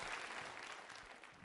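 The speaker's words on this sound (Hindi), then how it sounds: "उनके सम्मान में तालियां बजाइए" Audience applause at a quiz show held at a girls' college in Rajasthan, a short stretch of soft, distant, steady clapping from a crowd.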